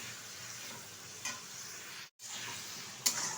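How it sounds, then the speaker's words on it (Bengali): Prawns being stirred and fried in oil, heard as a quiet steady sizzle with a couple of faint stirring knocks and a brief dropout partway through. "1 মিনিট মতো আমি এই চিংড়ি মাছটা তেলের সাথে নেড়ে চেড়ে নিয়েছি"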